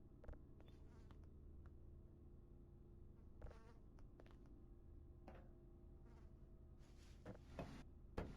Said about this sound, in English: What is fly buzzing in here?